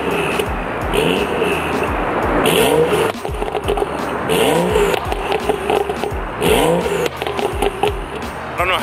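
A BMW tuned with Bootmod3 idles and revs with a throaty, burbling exhaust, loud and close, rising and falling in several bursts.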